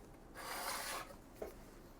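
A Sharpie marker scratches across a metal bracket inside an iMac G3 during a fan and hard drive upgrade, one faint sustained rubbing stroke about a second long followed by a small tap, close and quiet.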